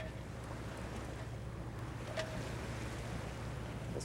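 A sailboat motors out of the Panama Canal on the Pacific side, its engine giving a steady low drone under wind noise and rushing water, with a faint voice.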